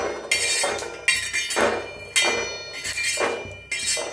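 Roasted peanuts moved from a pan onto a plate, a run of rhythmic scraping strokes with hard clinks and rattles of nuts and metal, close and fairly loud, with no voices.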